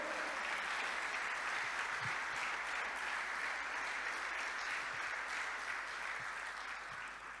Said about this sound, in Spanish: aplauda al Señor, haga algo.